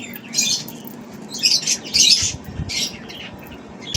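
Racing pigeons flutter and squawk in short bursts nearby, with rustling and soft scraping between the calls.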